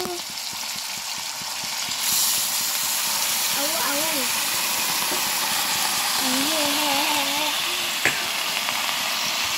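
Mustard greens hitting a hot pan give a steady broadband sizzle and hiss throughout, with a brief louder burst as they go in; a few sung or hummed tonal phrases drift over the top midway.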